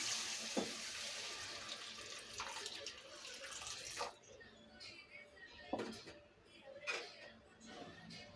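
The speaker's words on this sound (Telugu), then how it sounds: "ఇందులోనే కూరకు సరిపడా వాటర్ పోసేసుకుంటున్నానండి" Water poured from a vessel into a pan of gongura and dried prawn curry makes a steady splashing stream for a few seconds, then gives way to scattered splashes and clinks, with faint voices in the background.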